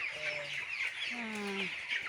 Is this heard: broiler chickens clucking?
yes